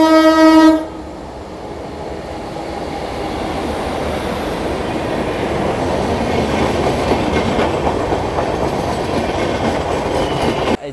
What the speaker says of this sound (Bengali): জগন্নাথ এক্সপ্রেস।